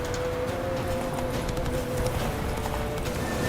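Roach the horse galloping in The Witcher 3 video game, with a steady fast clip-clop of hooves running continuously over dense game ambience.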